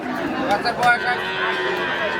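Nearby, a large cow with an 8-day-old bull calf gives a low moo amid a noisy crowd at a wholesale cattle market, with brief voices and bustle around it.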